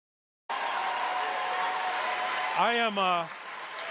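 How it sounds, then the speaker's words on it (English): A large audience applauds and cheers in a loud, steady wash of clapping for the whole stretch, and a voice speaks briefly over it near the end. "so many people are applauding and cheering"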